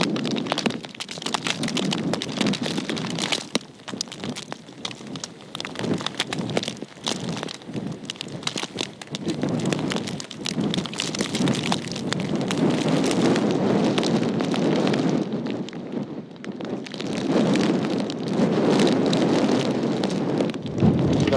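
Hail and rain pelt down during a storm in the Falkland Islands, with dense, crackling patter and heavy wind buffeting the microphone, loud and close throughout with surging gusts.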